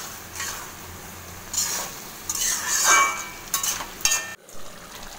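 A spoon stirs chicken in a pan on the stove, quiet scraping and clinking with soft sizzling from the simmering juices, a few louder scrapes in the second half and no voices.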